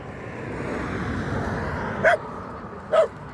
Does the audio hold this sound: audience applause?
no